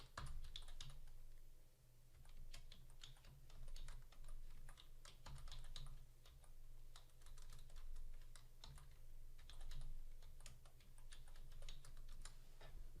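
Typing a password on a computer keyboard, a quiet run of soft irregular key clacks in short bursts over a steady low hum.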